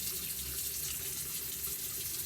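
Hot water runs steadily from a bathroom tap into a sink, a continuous close hiss and splash with no break and no voices.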